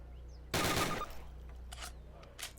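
A burst of rapid gunfire in the Call of Duty video game, roughly half a second of loud overlapping shots followed by fainter scattered pops and echoes.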